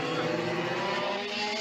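Go-kart engines whine loudly and steadily on a racing track, a buzzy high-revving drone that stays close and constant throughout.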